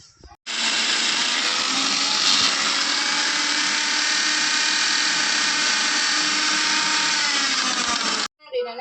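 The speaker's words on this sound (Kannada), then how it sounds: "ಪೂರ್ತಿಯಾಗಿ ಡ್ರೈ ಮಿಕ್ಸಿ ಮಾಡ್ಕೊಳ್ಳೋಣ" A mixer grinder whirs loudly and steadily for about eight seconds, dry-grinding spices for garlic chutney with a rattling, high-pitched motor roar, then cuts off abruptly.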